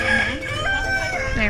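A rooster in Bali crows loudly and close by, a drawn-out, wavering call that breaks into a cackling, laugh-like stutter.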